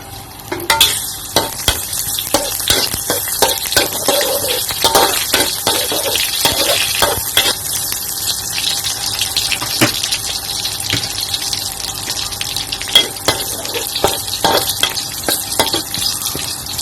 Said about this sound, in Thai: เตรียมกระเทียวให้พอเหลืองนะคะ